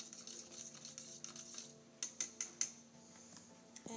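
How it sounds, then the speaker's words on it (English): A spoon stirs red and yellow food colouring together in a bowl to make bright orange edible paint, with light scraping throughout and four sharp clinks of metal against the bowl near the end, close and clear with no voices. "give that a good mix to get a nice bright orange"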